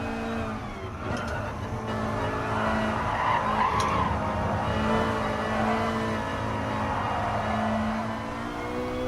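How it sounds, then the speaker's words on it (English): Tires screech at length in a GT Sport race at Le Mans, a long, steady squeal over racing engine drone with no talk. "all I knew was that I heard some tires screeching"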